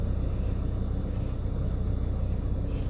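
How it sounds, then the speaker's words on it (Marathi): A car's engine rumbles steadily and fairly close, a low continuous drone with no clear start or pull-away, and no talking. "आता आपण देवाच्या पाया पडून गाडी सुरुवात करूया"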